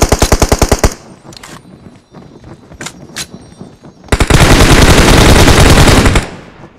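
Rapid automatic gunfire in a mobile battle-royale shooter: a tight burst of evenly spaced shots, scattered single reports, then a long, loud continuous volley that stops abruptly, with no voices over it.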